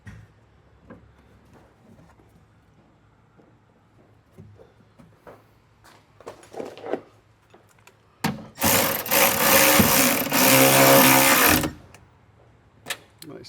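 A power tool drives a 10mm bolt into the window track of a Ford Explorer door: a loud, close whir lasts about three seconds near the end, after quiet clicks and handling sounds.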